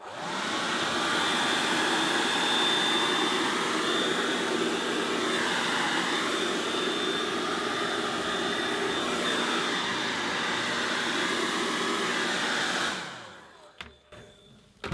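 A handheld hairdryer blows steadily with a loud, even whirring roar for about thirteen seconds, then clicks off, leaving near silence.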